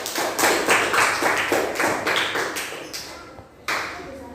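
Classroom applause for a student named Kenzi, a cluster of rhythmic claps from a small group, fading briefly before a last sharp clap.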